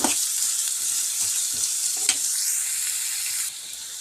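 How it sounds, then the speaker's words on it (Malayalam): Onion, ginger and garlic sautéing in a pan for a simple noodle breakfast, a constant close sizzle with a few scraping stirs of a spatula, no talking. "ഉള്ളി ഇഞ്ചി വെളുത്തുള്ളി അതൊക്കെ ഇട്ട് കൊടുത്തിട്ടുണ്ട് കേട്ടോ അതൊന്ന് വഴന്ന് വന്നിട്ട്"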